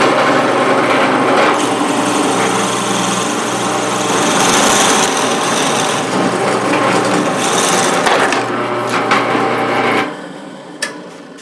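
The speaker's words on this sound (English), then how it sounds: "So now I'm going to start up and try to drill that again," A power drill in a shop bores into wood with a loud, continuous whine and grinding rasp, then winds down abruptly near the end.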